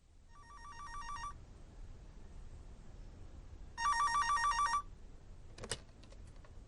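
A telephone rings twice in a long-distance call, two electronic bursts of trilling rings separated by a pause, followed by a brief click as the receiver is picked up, over low background hiss.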